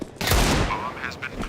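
A quick burst of gunfire in Counter-Strike 2 at a tournament quarterfinal, a loud crack followed by fading echoes over about a second and a half, with faint voices underneath.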